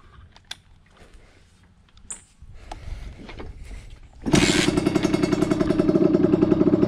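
A motorcycle engine fires up cold on the first try and settles into a loud, steady idle close by, after some quiet clicks and handling noises.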